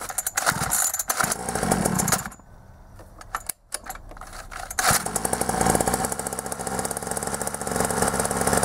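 A tuned pocket bike engine revs hard and buzzes loudly up close, drops to a rougher idle for a couple of seconds with a brief cut, then climbs back to a sustained high-pitched rev.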